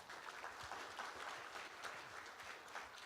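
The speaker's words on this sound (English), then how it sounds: "let's give a big round of applause to welcome our guest of honor" An audience at a formal APEC meeting claps steadily for a guest of honor, a dense, even patter of many hands heard from within the hall with no voices over it.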